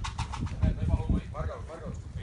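Racing pigeons arrive at a loft at the end of a 250-mile race, with a few soft coos and wing flutters heard close by while people talk excitedly in Spanish over them.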